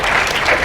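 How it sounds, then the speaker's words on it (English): An audience clapping at a live talk: a brief, dense, loud burst of many hands applauding together. "You're clapping at my failures."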